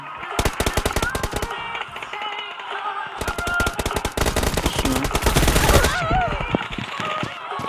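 Heavy weapon fire in PUBG Mobile comes as loud, rapid automatic bursts with a short pause in between, close up and dominant, while a voice talks faintly underneath.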